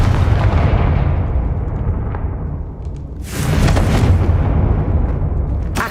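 A Confringo fire spell from Hogwarts Legacy bursts in a loud, continuous rumbling explosion, with a fresh surge of blasting around the midpoint and no talk over it.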